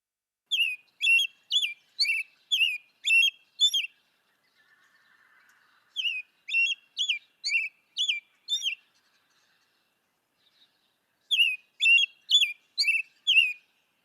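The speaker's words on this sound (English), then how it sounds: "here is a song of the very familiar bird, the American robin." An American robin sings bright, whistled phrases in three separate bursts of rapid, repeated notes, with short silences between, clear and close.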